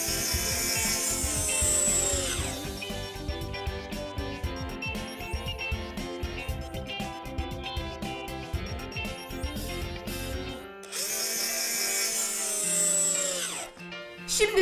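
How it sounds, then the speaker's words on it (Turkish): A toy power drill from a Lego building set whirs loudly and continuously, with buzzing bursts that stop and restart, close up and without talk. "Ve matkapımızı çalıştıralım."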